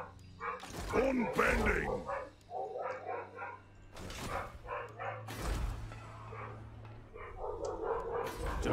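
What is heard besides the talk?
dog barking in video game Total War: Warhammer 2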